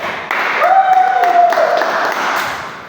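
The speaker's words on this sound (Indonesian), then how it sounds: "Tepuk tangan dong." Applause from a podcast audience swells in as a broad rush of clapping lasting a couple of seconds, with a brief whistling tone sliding over it near the start.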